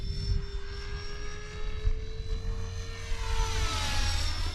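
A Blade 330X RC helicopter running on 12 volts flies fast, its high-pitched rotor and motor whine holding steady and then rising and sweeping as it passes close by, loud and alone.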